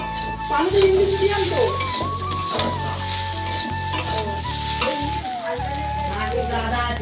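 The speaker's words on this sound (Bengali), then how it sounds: "রান্নাঘরে আলু ভাজতে চলে এসেছি আলু ভাজা করে নিচ্ছি" Potatoes fry in a pan in a home kitchen, a steady oily sizzle with repeated stirring scrapes and clinks of a utensil against the pan, close and clear throughout.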